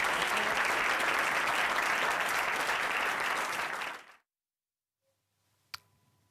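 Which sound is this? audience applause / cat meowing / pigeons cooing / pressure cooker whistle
audience applause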